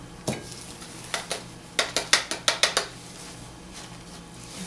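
A spoon scoops potting soil while lavender seedlings are transplanted, making a close, irregular run of light clicks and taps, clustered in a quick burst midway, over quiet background.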